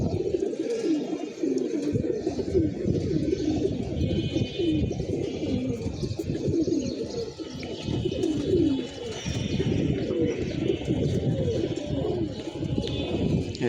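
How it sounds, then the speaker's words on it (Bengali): A flock of homing pigeons circles high overhead in a Bangladeshi village, a continuous dense fluttering and murmuring of many birds that stays steady and close-sounding throughout, with no voices. "মাশাআল্লাহ ভালো হাইট নিয়ে উঠতেছে কবুতরগুলা"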